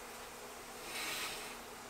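Chili and onion tempering sizzles steadily in a pan for dosa, a dense continuous frying hiss with a brief swell midway, close and moderately quiet with no talking.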